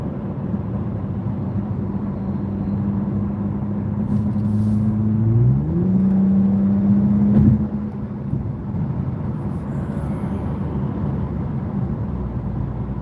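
A stanced Toyota 86 revs once near the middle, its engine note climbing sharply before dropping away under steady road and traffic rumble.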